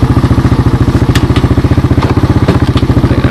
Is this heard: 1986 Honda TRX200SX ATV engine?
yes